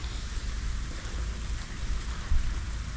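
Steady rain patters close by, a dense hiss of drops with a low rumble underneath and no voices.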